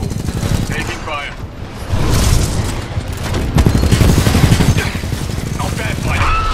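Gunfire in the Titanfall 2 video game: loud, rapid bursts of shots over rumbling battle noise, close and continuous, with voices speaking through the fight.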